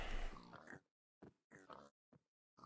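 Minecraft pigs in the Agrarian Skies modpack grunt and oink: one long cluster of calls, then four short separate oinks broken by silent gaps, close and clear.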